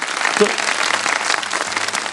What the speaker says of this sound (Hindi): तालियां बजा दे इनके लिए, तालियां बजा दे भाई।